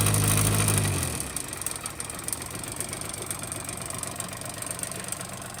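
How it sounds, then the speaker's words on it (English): A 1985 Honda Spree scooter engine with no power is held at full throttle, giving a steady rough mechanical drone with knocking. A louder low hum at the start fades after about a second. "Full throttle. And the wheel barely starts going."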